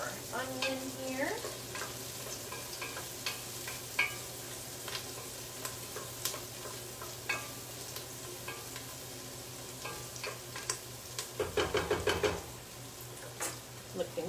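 Onion sautéing in a pan gives a faint, steady sizzle with occasional stirring and a clatter of utensils near the end, heard quietly in a home kitchen.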